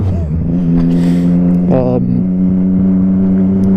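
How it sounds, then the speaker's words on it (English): A three-cylinder motorcycle engine drones loudly and steadily while the bike is ridden, with strong sustained harmonic tones and a brief rise in pitch partway through. "Triple engine, so it's got 3 cylinders instead of 4 or 2 or even 1"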